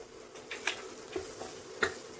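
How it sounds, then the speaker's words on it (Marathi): A spoon stirs spices through ridge gourd bhaji in a pan, giving a few faint, scattered scrapes and taps over a soft sizzle. "हे छान मिक्स करून घेऊ।"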